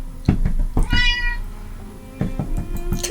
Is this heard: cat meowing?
yes